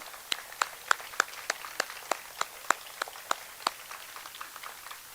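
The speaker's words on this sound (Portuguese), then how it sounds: "Me quero pedir um aplauso grande para a senhora Anna Witzenberg e a senhora Daphne Avery" Sparse applause for two honoured women at a restoration ceremony, heard as a steady run of separate, fairly close hand claps at an even rhythm over a low background hiss.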